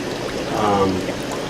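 Water trickles and splashes down through a flower-pot wet/dry filter in a fish room, a steady close patter and gurgle with a pump-fed flow.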